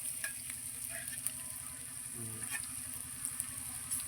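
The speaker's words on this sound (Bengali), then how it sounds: "হলুদ গুঁড়ো, লঙ্কা গুঁড়ো সব দিয়ে দেখো খুব সুন্দর করে ভেজে নাও।" Meat fries in a pan with onion, ginger, garlic and ground spices, a soft, steady sizzle with faint stirring scrapes, low and continuous without any talking.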